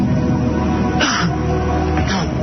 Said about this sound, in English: all of a sudden you hear a cough